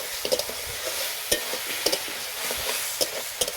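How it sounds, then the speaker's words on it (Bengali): A fried fish head is stirred with spices in a pan for a mung dal dish, giving a low sizzle broken by sharp scraping taps of the spatula at irregular intervals. "দিয়ে এটাকে আমি মশলার সঙ্গে ভালোভাবে কষিয়ে নেব।"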